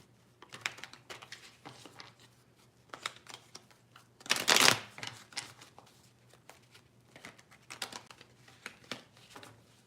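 Tarot cards being shuffled in soft, rapid riffling patters with one louder burst of cards snapping together midway, close and fairly quiet, no talking.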